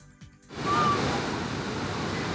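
Water of a river at Río Lindo rushes in a steady broadband wash, rising after a quiet half-second start and continuing loud and constant to the end.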